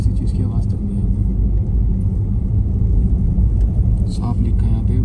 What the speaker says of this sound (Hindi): सब गाड़ी की आवाज है हमारी या फिर मेरे बोलने की, और किसी चीज की आवाज तक नहीं आती।